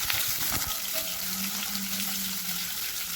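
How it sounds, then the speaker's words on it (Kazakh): Onion frying in sunflower oil in a hot pan, a dense steady sizzle heard close and alone, with a few faint clinks at the start. "қызарғанша қуырып аламыз."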